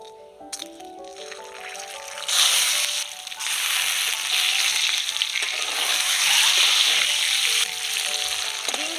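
Eggs seasoned with salt and turmeric frying in mustard oil in a wok, a loud, steady crackling sizzle that swells after a short tonal intro and keeps spitting and popping throughout.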